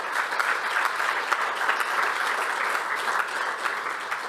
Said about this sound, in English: they deserve also a big applause for that